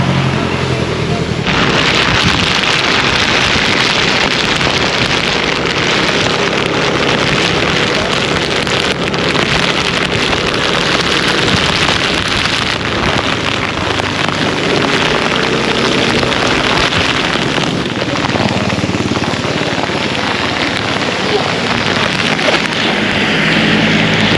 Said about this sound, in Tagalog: Kita nyo naman napakalakas ng ulan.